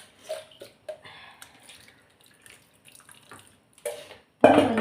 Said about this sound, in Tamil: நான் புளியை கரைச்சி ஊற்றிக்கிறேன்.